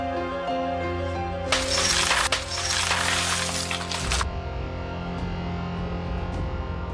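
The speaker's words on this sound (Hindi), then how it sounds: "मैं कांच तोड़ के अंदर आऊंगा" A glass pane shatters with a loud, sustained crash of breaking glass that lasts about three seconds over a steady background tone, then the music continues alone.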